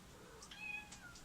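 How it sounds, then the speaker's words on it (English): A pet cat meows a few times indoors, faint and somewhat distant, with quiet room tone and no speech. "you can hear my cat in the background"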